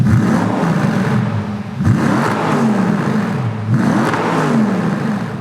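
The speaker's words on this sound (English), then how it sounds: "So our one's got some crazy exhaust system on it" An Audi R8 fitted with an aftermarket exhaust system revs hard three times in a row, each loud, rising snarl falling away before the next, close and unaccompanied by talk.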